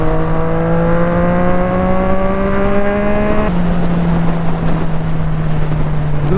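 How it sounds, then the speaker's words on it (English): A Triumph Street Triple RS motorcycle at speed holds a loud, steady engine drone, broken by one quick shifter gear change partway through, all wrapped in heavy wind rush. "Listen to the quick shifter. Ba ba ba. Then tum tum tum."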